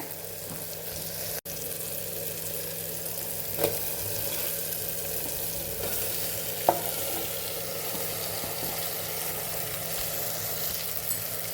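Cabbage and potatoes sauté with ground coriander-cumin spice in a hot pan, giving a steady close sizzle and frying hiss with a few scraping stirs, no voices.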